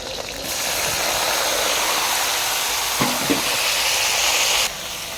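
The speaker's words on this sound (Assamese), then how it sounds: "তেল গৰম হৈ গ'ল, এনেকুৱাতে ঢালি দিলোঁ টুকুৰা টুকুৰ পিঁয়াজ।" Loud, steady sizzling and crackling of chopped onions frying in hot oil, close by, with a couple of faint clinks in the middle.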